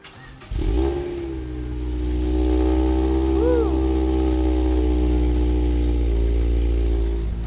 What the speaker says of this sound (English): All right, Cameron, we are going to do the cold start. See how it sounds. Fire it up